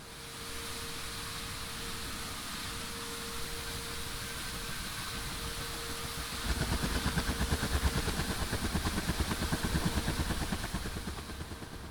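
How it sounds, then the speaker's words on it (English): The engine of a Ka-50 Black Shark helicopter spools up in the DCS World flight game. A steady turbine whine and hum swells partway through into a rougher, pulsing rumble as the rotor starts to turn, with no voices. "Notice the rotor starting to spin."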